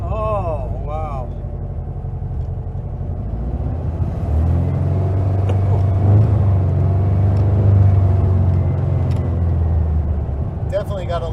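A 1956 Volkswagen Beetle with a swapped engine and a throttle that is slow to return hums as a steady low rumble from inside the car during a ride, rising in loudness midway, with people talking over it.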